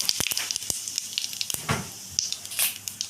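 Whole cumin seeds sizzling in hot oil in a wok, heard as a run of short crackling spits and pops with a faint steady hiss beneath, close and fairly quiet.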